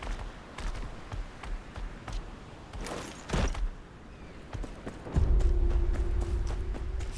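A horse gallops in the Game of Thrones Kingsroad video game, with a run of clip-clop hoofbeats at moderate loudness. A steady humming tone joins partway through and continues beneath the hooves.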